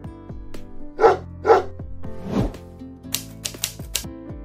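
A dog gives a handful of separate barks, two close together then a third, followed by sharp clicking taps, all fairly near and without talk.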